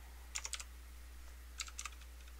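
Faint, close computer keyboard typing in two short bursts of a few quick keystrokes each, over a low steady hum.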